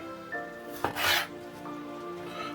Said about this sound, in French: On va se couper quelques rondelles d'oignons.